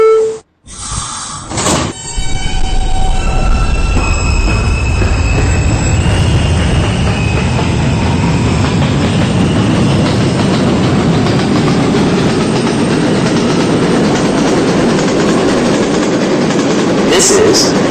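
Interior of an R160B subway car on the D line rolling along the track, a steady loud rumble and rail roar with faint wheel squeal, starting after a brief pause and running on continuously.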